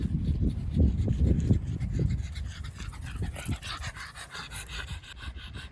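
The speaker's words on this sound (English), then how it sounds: "You're a happy dog." A dog pants close by outdoors on a country walk, with quick rhythmic breaths that stay strong at first and then ease off, with no talking.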